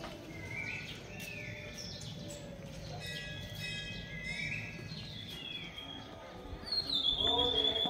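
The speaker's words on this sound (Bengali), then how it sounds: "চারপাশে পাখির ডাকছে" Morning birdsong at Lepchajagat in the Darjeeling hills, several birds whistling and chirping in clear rising and falling phrases at moderate distance, over a quiet insect hum, with muffled voices and chanting faintly behind.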